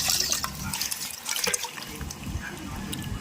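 Small pieces of fish being rinsed in water in a home kitchen, with running and splashing water and light clatter throughout, close and steady, with no talk.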